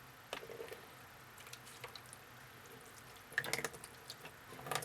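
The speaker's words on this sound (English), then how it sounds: "And I'm going to add some water. This is 116 degree water." Warm water at 116 degrees is poured gently over a comic book in a shallow tray during paper conservation, giving soft intermittent splashes and drips that swell into a brief louder gush near the middle and end.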